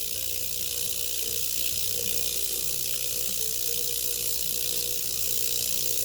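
Peach moonstone tumbles with water in a running rock tumbler, making a continuous close grinding rattle and motor hum that holds a steady level throughout.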